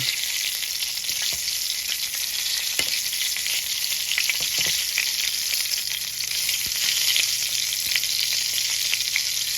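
Duck breast frying gently on low heat in a pan, a steady close sizzle with scattered small pops and crackles throughout, with no talk.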